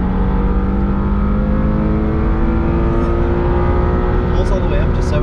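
A 2022 Subaru BRZ engine pulls hard on a race track, a loud steady drone climbing slowly in pitch toward high revs, heard close from inside the car with continuous wind and road noise.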